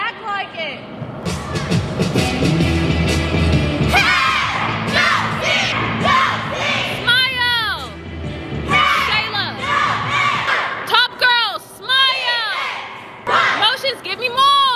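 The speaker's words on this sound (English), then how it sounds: "Y'all all have to cheer the whole time you come out on the floor." A squad of cheerleading girls shouts and cheers continuously as they come out onto a competition floor, loud close voices in overlapping yells and chants, with a coach's voice calling over them.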